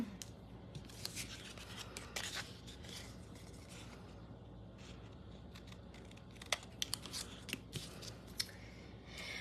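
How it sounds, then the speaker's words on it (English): Scissors cutting along the edge of scrapbook paper to extend a red, white and blue banner, quiet close snips and crisp paper rustles in irregular bursts, faint against a soft room background. "I'm just gonna take my scissors and continue the banner. So I'm gonna cut right along the edge of my paper"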